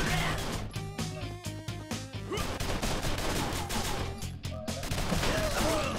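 A dense, continuous barrage of gunfire, crashes and impacts from the side-scrolling game Mercenary Kings fills the whole stretch at high volume, with rapid repeated shots layered over busy game music.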